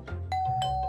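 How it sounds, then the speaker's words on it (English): A cartoon doorbell from Hey Duggee rings with a bright, clear electronic chime, two tones struck in quick succession and held, loud and close with no talk over it. "That's the doorbell."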